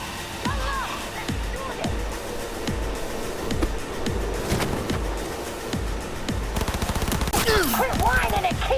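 Rapid automatic gunfire from a firefight in Cyberpunk 2077: steady, repeated bursts of shots hammer on for the whole stretch, loud and close, while voices shout over the shooting.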